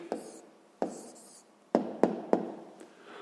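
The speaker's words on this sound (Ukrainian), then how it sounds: "Ну що ж, записуємо відповідь." A pen writes an answer into a 5th-grade math exercise: a few short, close scratchy strokes and light taps on paper, quiet and intimate.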